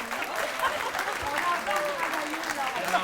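An audience applauds volunteers at a hospital foundation's 40th anniversary evening in La Malbaie. Dense, steady clapping continues for about three seconds. A voice can be faintly heard through it.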